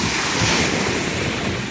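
Ocean waves roll and wash in continuously at sunrise, a dense broadband surf roar with some wind noise on the microphone, steady and close, no voices.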